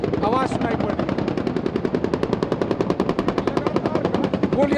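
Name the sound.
gunfire during Taiwan live military drill with Apache helicopter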